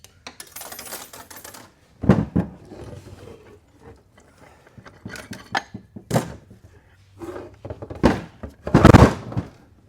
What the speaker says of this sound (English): let me get these clutches out of here real quick